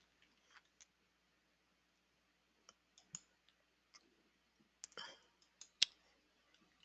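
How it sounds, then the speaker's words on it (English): Computer mouse clicks on a link come as scattered light taps, sparse and fairly close, with small rustles in between. "So I'm going to go ahead and click on the first one."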